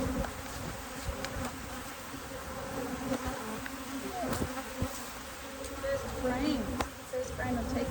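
Honey bees swarm around an opened top bar beehive, making a dense, continuous close buzzing that fills the whole stretch, with occasional handling knocks and speech over it.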